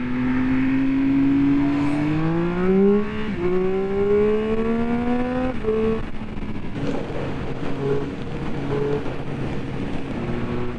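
A sport motorcycle engine revs up loudly and climbs in pitch, drops as it shifts gear, then climbs again before settling into a steady drone.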